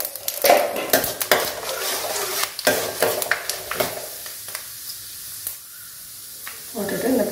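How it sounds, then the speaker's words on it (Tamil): Mustard seeds, fenugreek and cumin crackling in hot oil for a village-style fish curry, loud rapid popping and sizzling with spoon scrapes early on, fading to a quieter sizzle before a final burst. "வெந்தயம் பொரிஞ்ச உடனே, இது ரெண்டும் பொரிஞ்ச உடனே கொஞ்சம் போல ஜீரகம்,"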